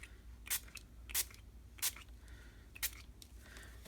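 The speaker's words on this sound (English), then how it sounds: "I'm going to try to spray a little closer this time so we don't have it sprayed all over." Brutus Monroe surface spray released from an aerosol can in five short, sharp hissing bursts at a fairly even pace, close and clear over a quiet background.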